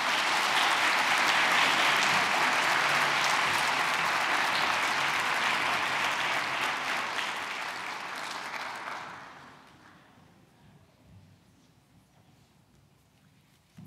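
An audience at a university toast event gives a dense, sustained round of applause after a speech, holding steady for several seconds before fading away into quiet room tone.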